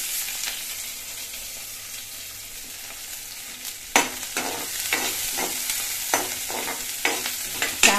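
Finely chopped onion fries in a pan for a sprouted horse gram sambar, a steady soft sizzle punctuated from midway by several sharp scraping stirs.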